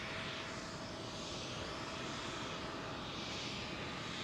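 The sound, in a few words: aircraft departing London Heathrow runway 09R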